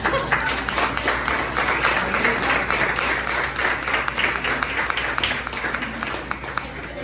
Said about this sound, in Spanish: un aplauso para mi abuela Mari, venga